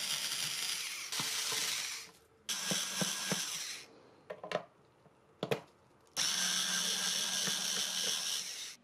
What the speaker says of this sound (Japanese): ネジを外していきます